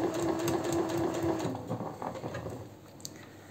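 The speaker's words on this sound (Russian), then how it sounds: "И на ширину лапки отстрачиваем." Sewing machine topstitching fabric at presser-foot width, a quiet rapid mechanical stitching patter close by that runs for about a second and a half before slowing into softer clicks.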